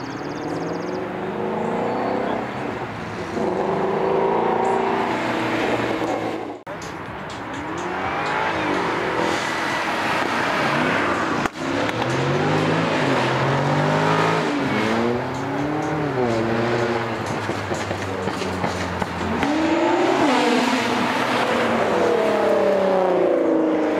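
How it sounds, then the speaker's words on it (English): Supercars and exotic cars pull away from a Saturday car meet outside a restaurant in Bloomington, Minnesota, engines revving loudly and rising in pitch as one after another accelerates past, with near-continuous roaring and occasional tire noise. "This video contains some of the vehicles leaving the Minnesota Supercar and Exotics Supercar Saturday event"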